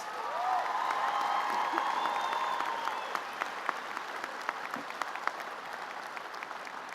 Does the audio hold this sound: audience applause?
yes